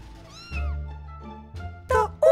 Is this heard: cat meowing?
yes